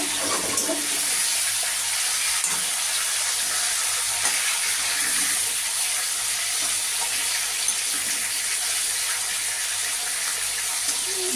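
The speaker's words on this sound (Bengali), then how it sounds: "ইলিশ মাছের মাথা একটু হালকাই ভাজবো কড়া করে ভাজবো না" Steady, fairly quiet frying hiss of hilsa fish heads in a pan, continuous and even throughout with no talking.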